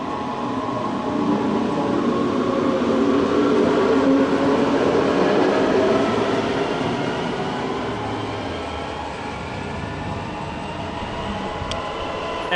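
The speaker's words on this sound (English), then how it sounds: "that train leaving the other platform was also heading to the airport" A Munich S-Bahn train pulls away from the station platform, a steady loud rumble and rising electric motor whine that swells and then slowly recedes, with the platform hall's echo and no talk.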